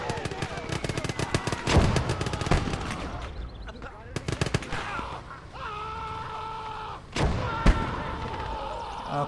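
Explosive mortar and artillery fire in a video game battle, with loud bursts of gunfire and heavy thuds clustered near the start and middle, then two sharp blasts near the end, under low talk.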